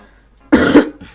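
A man who is a little sick gives one loud, close cough, followed by a fainter catch of breath.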